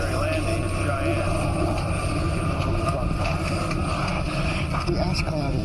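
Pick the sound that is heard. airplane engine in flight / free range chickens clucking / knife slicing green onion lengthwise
airplane engine in flight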